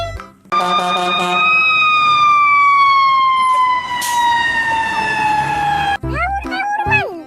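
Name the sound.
toy fire truck siren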